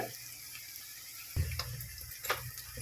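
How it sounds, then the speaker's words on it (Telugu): Water poured into a cooking pot while making tamarind rasam, giving two brief, fairly faint splashing bursts over a quiet background hum. "ఒక చెంబెడు నీళ్ళు పోసుకోవాలి"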